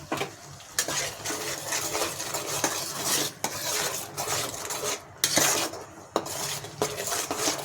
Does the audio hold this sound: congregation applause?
no